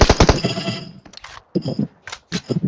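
A rapid burst of automatic gunfire rings out in a shooting video game. It is loud and close at the start, followed by quieter scattered shots and clatter.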